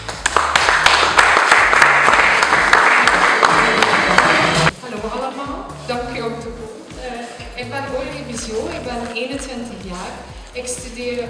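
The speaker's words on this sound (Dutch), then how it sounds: "Uw applaus voor kandidaat nummer 1, Aurélie Bissio." Applause for a contestant at a Miss Bredene beauty pageant press presentation: a loud burst of clapping for about five seconds stops abruptly, followed by a voice speaking over quieter background sound.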